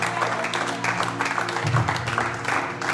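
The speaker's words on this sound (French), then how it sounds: "Est-ce qu'on peut acclamer Jésus?" A church congregation breaks into steady applause acclaiming Jesus, many hands clapping at once in a continuous patter, with voices faintly audible beneath.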